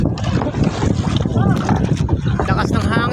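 Strong monsoon wind roars and buffets the microphone while people talk over the rushing noise.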